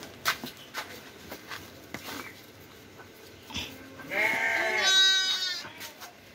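Garole sheep ewe and her two newborn lambs bleating on a farm: scattered soft knocks and rustles, then a loud, wavering bleat rising for about two seconds near the end.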